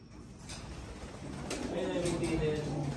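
Pigeons coo in a bird loft over a steady background, with soft rising-and-falling calls becoming clearer in the second half and people talking nearby.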